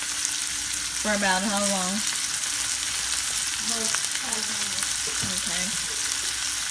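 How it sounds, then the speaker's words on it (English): Ingredients sauteing in a pan for a spicy fish dish give a steady, close frying sizzle that runs throughout, with a person speaking briefly over it. "So you let this saute"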